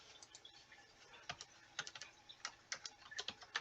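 Fingers typing a command on a computer keyboard, a fairly quiet, irregular run of close key clicks and taps with small bursts and short gaps, alone without talk.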